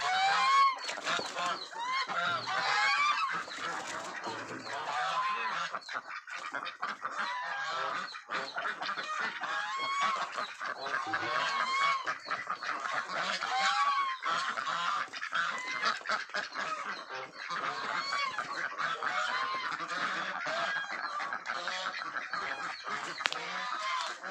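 A flock of Ee-liang ducks, a large breed kept for looks, meat and eggs, honks and quacks loudly and continuously for the whole stretch, overlapping calls close by with no one speaking.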